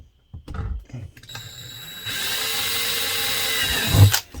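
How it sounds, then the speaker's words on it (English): A power drill whirs steadily for several seconds, close and loud, with mechanical clicks at the start and a brief louder burst before stopping, while repairing a cracked ABS shower pan. "that's basically all you need to do with that drill"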